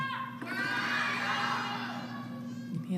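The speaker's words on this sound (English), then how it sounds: "now the crowd starting to cheer for Sun Yingsha." Arena crowd noise swelling into cheers for Sun Yingsha at a table tennis match, US Smash women's singles against Liu, a loud continuous roar of many voices with higher shouts throughout.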